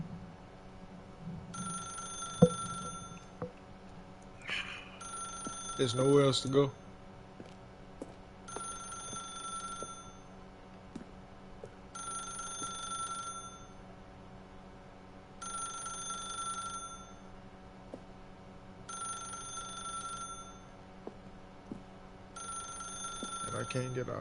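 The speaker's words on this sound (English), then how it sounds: "then pick up the phone" A telephone in the video game The Stanley Parable rings in regular repeated double bursts, about six of them spaced evenly, over a quiet ambient hum, with someone speaking briefly between rings.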